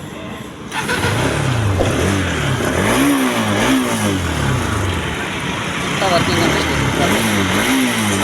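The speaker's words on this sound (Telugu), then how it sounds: "ఒకసారి ఇంజన్ కూడా స్టార్ట్ చేసి చూపిస్తాను చూడండి" A Bajaj Pulsar NS200 BS4 motorcycle engine runs close by and revs repeatedly, its pitch rising and falling in waves over a steady idle for the whole stretch.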